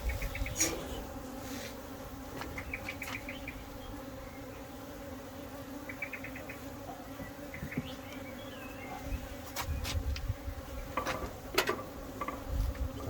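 A steady, close hum of many honeybees buzzing around an open hive during inspection, with individual insects droning past now and then, and faint clicks and taps underneath.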